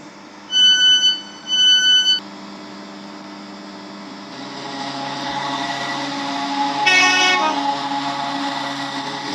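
A horn from a train in the SCR Roblox game gives two short, loud blasts at a platform, followed by the rising, steady rumble and hum of the train passing.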